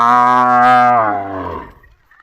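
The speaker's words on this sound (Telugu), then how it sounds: "అంబా అంటే అరుసుని విన్నా కదా" A cow out grazing with livestock gives one long, loud, close moo that slides lower and fades away over about two seconds, with no other sound.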